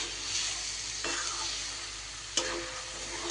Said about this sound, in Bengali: আরও 2 মিনিট আমি এইভাবে নাড়াচাড়া করে সব কিছু একসাথে করে নিয়েছি